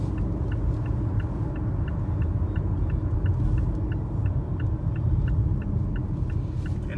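A Mazda on a test drive gives a steady low engine and road rumble from inside the cabin, with a faint, regular ticking that sounds like a turn signal.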